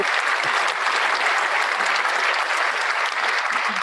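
Sustained applause from a conference audience after a speech, dense and steady clapping that fills the room for the whole stretch.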